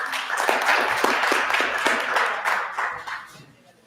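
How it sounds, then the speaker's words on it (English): Applause from a small group at a meeting, scattered hand clapping for a few seconds that fades out at the end. "I think we ought to give her a round of applause."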